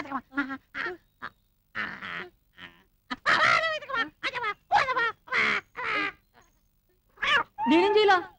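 A cat meows several times in a Telugu film scene set in a forest, its short wavering cries mixed in with human voices talking nearby.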